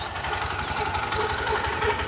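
A new motorcycle idles in gear with no throttle, its engine a steady, close mid-pitched chug with slight knocking while the rear wheel turns on its own; no voices over it.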